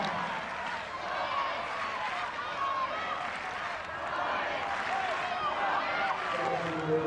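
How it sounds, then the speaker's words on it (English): Spectators at the 2004 world championship women's ultimate frisbee final between Canada and Finland cheer and clap in a steady, distant wash of crowd noise that lasts throughout, with commentators talking over it. "Even the crowd is waking up."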